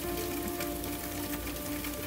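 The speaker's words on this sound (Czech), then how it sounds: "Ale riadne prší." Steady, dense rain hisses without a break in the horror video game The House of Demon, a constant close wash of noise with no voices.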